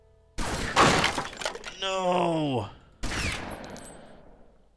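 Gunfire and shattering in the gangster strategy game Omerta City of Gangsters: a dense crackling volley, a warbling falling tone, then another burst fading out, with a voice speaking briefly.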